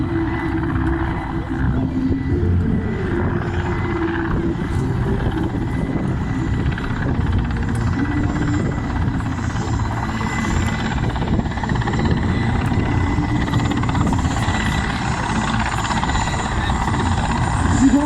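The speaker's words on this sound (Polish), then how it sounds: "W chwili obecnej trwa przylot pierwszego śmigłowca" Steady loud military helicopter rotor and engine roar as it arrives at a military display, filling the whole stretch, a constant dense drone with faint voices buried underneath.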